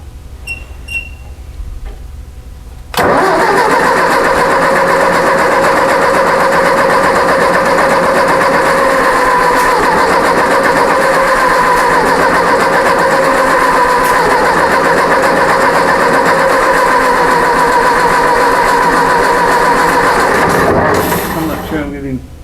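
A Ford 600 tractor engine being cranked by the starter, a loud, close, continuous grinding whir that holds steady for nearly twenty seconds without catching, with faint voices in the background before it begins.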